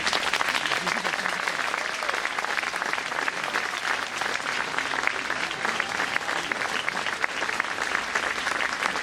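A large audience applauds schoolchildren at a French public event, producing dense, steady clapping that fills the room at a constant level for the whole stretch, with no voices rising above it.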